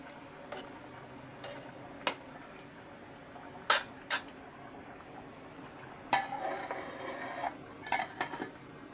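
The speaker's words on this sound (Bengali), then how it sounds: "তরকারিটা এখনও ভালো করে সেদ্ধ হয়নি একটু নেড়ে দিচ্ছি" A spoon stirs a pot of hilsa fish curry with snake gourd, giving sparse, quiet clinks and scrapes against the metal at irregular intervals, with a few sharper knocks near the middle and end.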